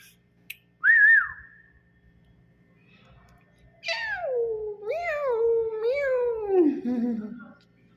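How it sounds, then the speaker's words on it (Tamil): A pet cat kept at home in Saudi Arabia gives a short high meow early on, then after a pause a longer series of drawn-out, sliding meows that drop in pitch, close and fairly loud against a quiet room. "இங்கே பாருங்கள், எங்கள் வீட்டு பூசி"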